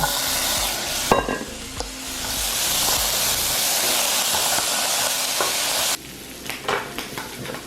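Chickpeas tipped into a hot pan with pork tenderloin hiss into a loud, steady sizzle, with knocks and scrapes of stirring up close. The sizzle abruptly drops to a gentler crackle partway through, and nobody talks.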